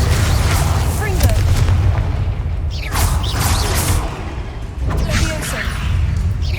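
Fiery blasting spell explosions in the Hogwarts Legacy video game, sounding as booming bursts at roughly three and five seconds over a dense, rumbling low-end game soundscape.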